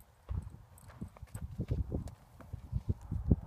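A horse walks during a handling lesson, its hooves clopping in an uneven rhythm of soft thuds, close by and moderately quiet.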